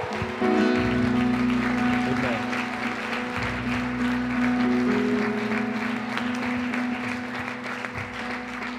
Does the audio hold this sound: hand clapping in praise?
yes